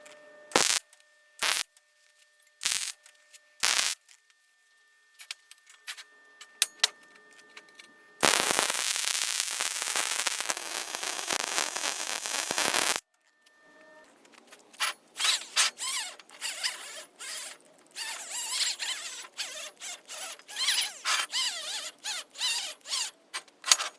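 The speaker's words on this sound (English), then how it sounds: "we'll get this stuff welded out" Welding on truck trailing arm link mounts for a Bronco: short crackling arc bursts separated by silences, one long sustained sizzling weld pass in the middle, then a dense run of brief crackling tacks, close and loud.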